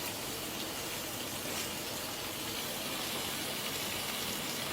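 Chopped onion sizzles steadily in hot oil as it is mixed in for a hilsa fish recipe, a soft, continuous broadband hiss with no talking over it.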